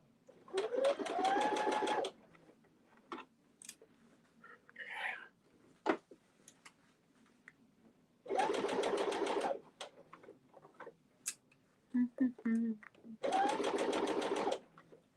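A sewing machine runs in three separate bursts of fast, even stitching, each lasting one to two seconds, with quiet gaps between them that hold small handling clicks and faint movement.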